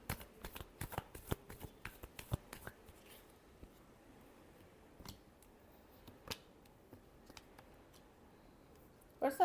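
Tarot cards are shuffled in a rapid series of crisp riffles and slaps, close and fairly quiet, then a few scattered taps and one last flick.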